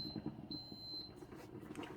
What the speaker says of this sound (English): Okay, so it beeped 3 times.